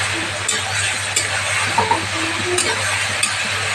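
Vegetable chow mein noodles with soy sauce being stirred in a frying pan, heard as a continuous close sizzle broken by occasional soft scrapes and clinks of the utensil.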